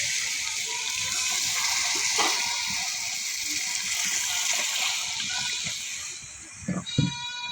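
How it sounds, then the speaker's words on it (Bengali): Broth poured into a cooking pot makes a steady gushing, splashing stream that runs for several seconds, ending in a few louder sloshes and clinks; no talking. "এখন একটু ঝোল দিয়ে দেবো"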